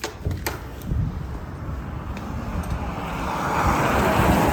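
A sister's car drives along, the steady low road rumble and tire noise slowly swelling louder, with a few sharp clicks near the start.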